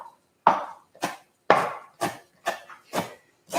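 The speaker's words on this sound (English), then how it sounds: "And so I'm roughly chopping them." Greens and their stems being roughly chopped for a plant-based ash soup, about eight firm knife strikes on a board at a steady pace, close and fairly loud, with no talk.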